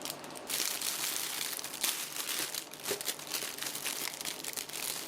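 Plastic wrap crinkles steadily up close as it is peeled off a frozen, pre-packaged hamburger, a loud continuous rustle with a few brief pauses and no talking.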